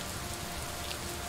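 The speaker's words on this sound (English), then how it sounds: "That's rain." Rain falls steadily in the video game Superliminal, a dense, even hiss of drops on surfaces that stays constant and moderately loud with no voices.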